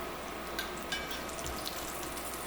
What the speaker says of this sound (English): Once you start to get a little bit of that smokiness from the pancetta, we can mix it up.